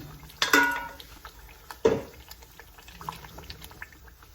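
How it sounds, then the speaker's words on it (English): A little water poured into a pot of fried meat stew, two brief splashing bursts followed by soft bubbling and drips, fairly close and quiet between. "add a little water"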